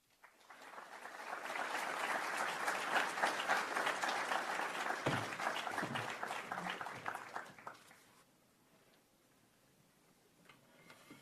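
Sustained applause fills a press-conference room, a dense wash of clapping hands that swells for several seconds, then fades abruptly to quiet room tone with scattered faint sounds.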